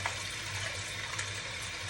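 Tap water runs steadily while brown jasmine rice is rinsed for the fourth time, a continuous close hiss and splash with no talking.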